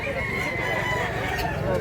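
A rooster at a market crows in a sustained call close by, amid busy crowd noise and background chatter.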